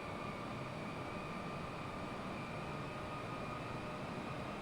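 A heavy jet in Microsoft Flight Simulator 2020 holds a steady, dense engine roar with a faint high whine as the throttle is eased up, constant and unbroken throughout.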